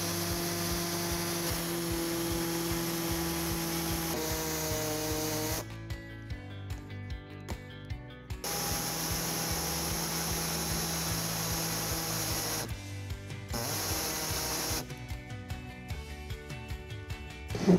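Power tool cutting through plastic bumper trim on a 2018-2024 Honda Odyssey, a steady close buzzing whine with brief pauses and load changes as it works through the piece, no talk.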